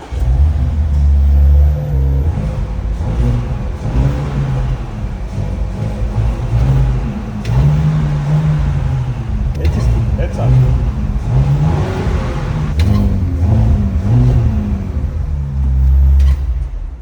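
An Audi RS4 engine, built to 500 hp with all-wheel drive, rumbles and revs loudly and steadily, with the low growl swelling and easing over several seconds.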